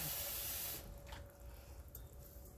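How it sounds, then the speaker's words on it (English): Tap water runs in a steady hiss and splash into a can of Italian tomatoes for meat sauce, then it stops and quiet kitchen room tone follows. No one speaks. "Let me just add a little water and I'll show you one can."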